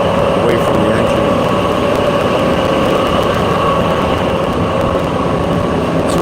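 A nearby engine runs steadily with a constant droning hum and broadband rumble that stays loud and unchanging throughout, with no break or rise in level.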